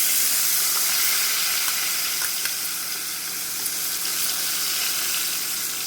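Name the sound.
onions frying in oil with cumin, urad dal and turmeric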